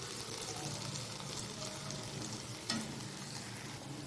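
Potatoes fry in an ordinary cooking pan, giving a faint, steady hiss with occasional soft scrapes and one sharper clink from stirring, no talking.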